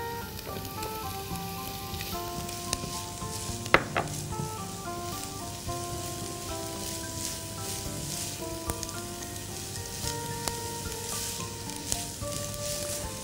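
Sausage and green pepper fry in a pan with a soft, steady crackling sizzle heard close but fairly quiet, with occasional small pops and no talk.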